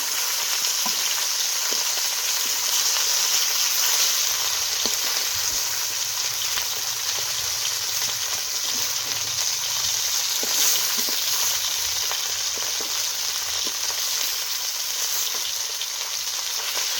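Bhola fish fry in oil in a kadai, giving a steady, close hiss and sizzle with small crackles and occasional pops that run unbroken throughout.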